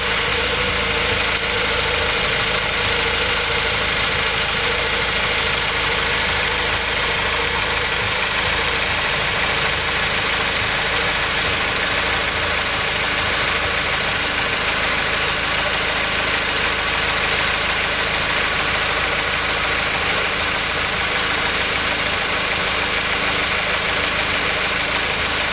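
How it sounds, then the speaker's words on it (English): A Honda Prelude engine idles steadily up close, an even mechanical hum with faint ticking throughout and no talking. "the engine's running now"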